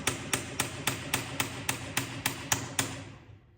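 A punch is tapped lightly with a hammer to drive out a part while servicing a wheelchair: about ten evenly spaced sharp metallic taps, close and clear, with no talk.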